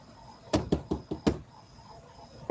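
Knocking on a house door at a political campaign visit: a quick series of about five firm knocks in a close, uneven rhythm, then quiet, with no voices.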